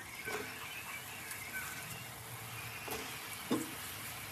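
Garlic cloves sizzling in hot oil, a steady crackling hiss throughout with a few brief louder pops near the end, no talking.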